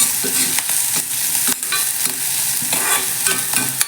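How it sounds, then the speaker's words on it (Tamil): Sliced onions sautéing in a pan for mint rice, stirred with a spoon: a steady close sizzle broken by repeated scraping stir strokes, with no talking. "வெங்காயம் நல்லா வதங்கக்கூடாது கொஞ்சம் வதங்கினா போதும்"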